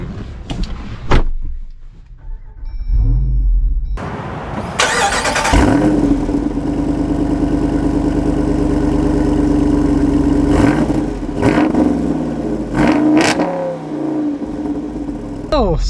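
A Jeep Wrangler 392 with a loud close door thunk, then the V8 cranking to life with a sharp flare and settling into a deep, steady idle, punctuated by several quick revs toward the end.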